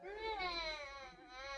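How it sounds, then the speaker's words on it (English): A synthesized child-crying sound effect played on a keyboard synthesizer, a single wavering, sobbing wail with gliding pitch, close and steady for under two seconds. "some kind of a sound effect, like a child crying, perhaps"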